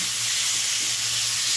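Fried jackfruit and potato pieces go into hot spiced oil that has separated from the masala, setting off a steady, even sizzle and hiss that holds for the whole stretch, with no voice over it.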